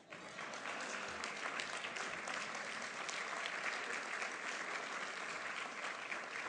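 Sustained applause from a seated audience at the 2013 William E. Simon Prize for Lifetime Achievement award ceremony: dense, even clapping that holds steady at full strength throughout, with no voices rising above it.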